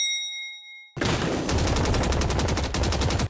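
A rapid-fire gun in the Overwatch video game: a brief electronic chime, then a dense stream of close, loud, evenly spaced automatic shots lasting a few seconds.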